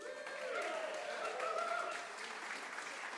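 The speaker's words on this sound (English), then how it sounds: "Give yourselves a big round of applause." Audience applause after a live acoustic music show, a dense wash of clapping with some voices and whoops mixed in, steady and fairly loud for the few seconds.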